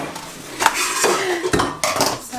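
Metal pots and a saucepan clatter and clink while being handled in a home kitchen during cooking, with several sharp knocks and scrapes close by.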